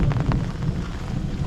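Heavy rain pours steadily over a village by green paddy fields, a dense, loud, continuous hiss with low rumbling throughout.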